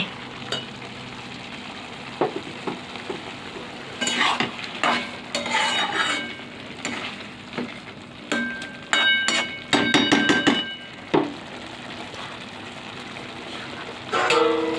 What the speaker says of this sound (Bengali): মাংসটা কষা কষা করছি গো, কষা কষা